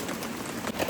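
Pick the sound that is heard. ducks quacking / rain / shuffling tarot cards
rain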